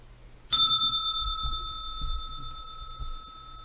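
A single bright bell strike rings out clearly, then sustains with a long, slowly fading tone over faint low background rumble.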